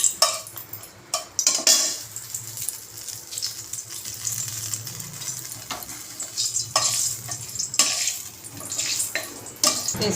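A green chili dropped into hot oil in a pan of fried potato sizzles steadily, with close stirring scrapes and a few utensil clinks throughout.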